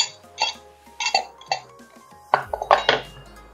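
A metal chakli press disc clinks and rattles as it is set into a greased brass mould, a series of sharp, close metallic clatters in short bursts.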